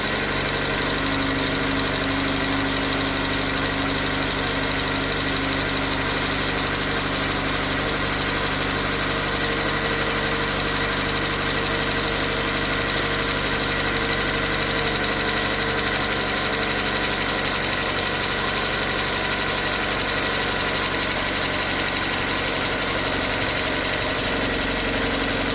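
A 2013 Dodge Dart engine idles steadily on its first startup, a loud, continuous mid-pitched hum with faint knocking vibration running unbroken throughout, no talk.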